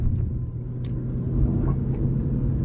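A Lexus IS250 sedan rounds a corner, heard as a steady low engine and road rumble from inside the cabin, continuous and fairly loud with no clear revving.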